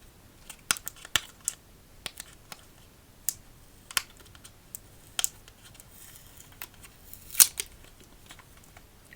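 A sealed deck of playing cards is peeled open in a quiet room, making a series of sharp crinkly snaps and ticks that come in irregular bursts, close and crisp.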